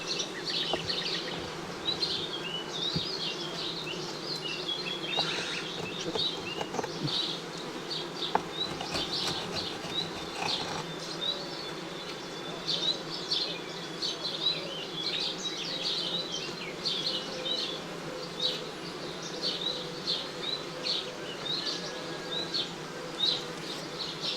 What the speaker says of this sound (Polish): pszczoła wpadła i wypadła.